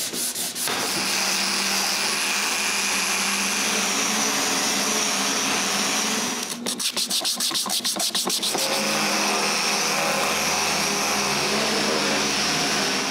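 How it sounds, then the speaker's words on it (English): Loud, continuous whir of a power sander grinding on a walnut clock case, steady throughout with a brief rhythmic stutter in the middle. "And I'm not done sanding."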